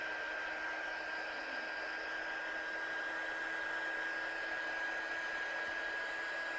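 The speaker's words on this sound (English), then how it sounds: "I'll just dry this one off quickly with my gun" Steady, close whirring hiss of a heat gun drying a handmade stamped card, an even blowing drone with a faint high whine, running alone without interruption.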